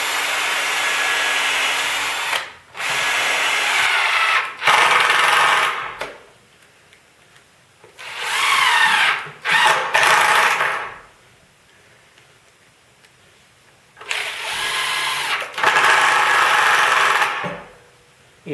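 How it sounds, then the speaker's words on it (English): A power drill bores into wood in several separate bursts, each a loud whirring grind lasting a couple of seconds, with quiet gaps between. "I'll go ahead and drill the rest of the holes."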